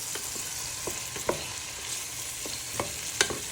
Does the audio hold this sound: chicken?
yes